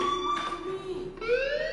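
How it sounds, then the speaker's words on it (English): An alarm rings in steady electronic tones, a sustained high whine that shifts pitch partway through. It sounds close and constant, with no talk over it. "do you hear that fire alarm?"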